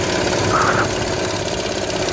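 A vehicle engine rumbles steadily nearby, a continuous mid-low drone with a brief higher whine partway through.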